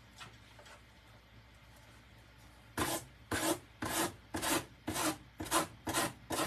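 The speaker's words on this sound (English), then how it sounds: "I've still got to sand that little bit off the edge." Rhythmic rasping strokes of sandpaper against the edge of a small wooden door hanger, about eight steady back-and-forth passes after a quiet start, close and clear.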